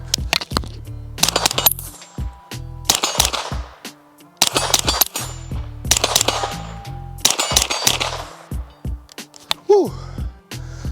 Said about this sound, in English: we still got about 10 rounds left in this one.